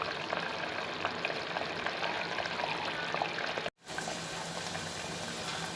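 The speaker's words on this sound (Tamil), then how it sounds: "விசில் போன பிறகு ஒரு 10 minutes கொதிக்க வைக்கணும்." A steady bubbling simmer of mutton curry boiling in a pot on the stove, continuous and close, with a momentary cutout partway through.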